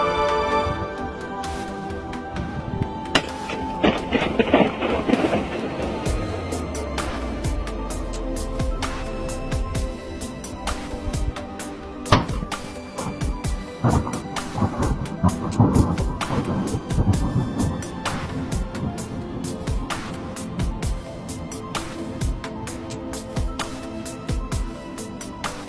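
A balloon pop inside a nuclear power plant, slowed down so its echo rolls like thunder: a deep, booming rumble that swells and decays over many seconds, with repeated crackling reverberation.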